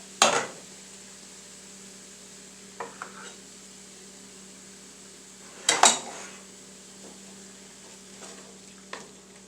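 A ladle scrapes and clinks in a pot of thick, chili-like stuffed pepper filling, with a few sharp metallic knocks spaced apart over a low kitchen hum.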